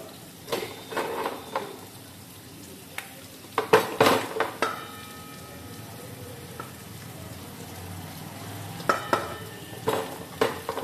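Onions sizzle softly in a pan while a spoon scrapes and clanks against the metal in scattered bursts.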